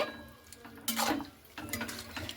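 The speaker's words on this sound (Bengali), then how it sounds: "শাকটা দিয়ে খুব ভালো করে আমি এভাবে নাড়াচাড়া করে নিচ্ছি" Drumstick greens stirred in a cooking pot, with a utensil scraping and clattering against the metal in two short bursts separated by quieter moments, close by and fairly faint, with light sizzling underneath.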